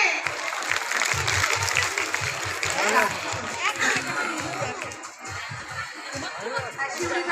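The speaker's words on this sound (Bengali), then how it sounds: "হাততালি হবে।" An audience at a children's abacus exam prize distribution claps in sustained, dense applause, with crowd chatter mixed in throughout.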